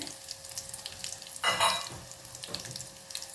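Green chillies, garlic and curry leaves frying in a spoonful of oil crackle with a continuous close sizzle, swelling into a louder burst of spitting midway before settling back.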